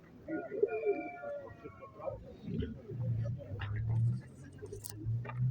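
Pigeons coo in low, rounded repeated calls beneath people chatting at a pigeon and poultry fair in Uman, Ukraine, with some street noise in the background.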